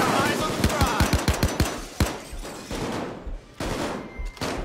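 Sniper gunfire in a Payday 2 heist: a rapid string of loud, sharp shots cracking close together, then scattered bursts amid continuous game noise, with a voice talking over it.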